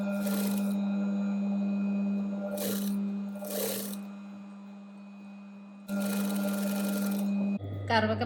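A sewing machine stitches a neck piece during a beginner tailoring lesson, running in several short bursts and one longer run over a steady electric hum, with a brief low sound at the very end.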